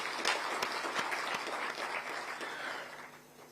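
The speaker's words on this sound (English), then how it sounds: "join our hands and clap for really this great achievement" An audience at a Ministry of Environment event at Nairobi Arboretum claps for an achievement, steady mid-distance applause that swells and then fades away toward the end.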